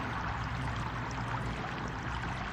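Water pours steadily into a bottle in the dungeon-crawler game Barony, a continuous broadband rush with no pauses and no talking.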